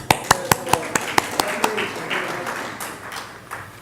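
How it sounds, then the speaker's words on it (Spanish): A few people clap in a sharp, regular rhythm that fades into a softer scatter of applause, with a voice in the background, at a church gathering. "Un aplauso para Beatriz."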